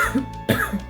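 A couple of close, harsh coughs in quick succession, loud and alone with no talking.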